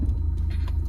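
A car engine rumbling steadily up close as the vehicle is turned around, a low, even drone with faint rattling over it and no talking.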